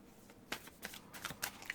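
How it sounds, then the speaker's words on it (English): A deck of oracle cards is shuffled by hand during a crystal and energy reading, heard as several soft, quick riffles and flicks, close but faint, with no talking. "Shuffle, shuffle."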